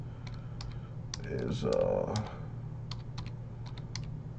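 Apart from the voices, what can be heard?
typing on a keyboard with one hand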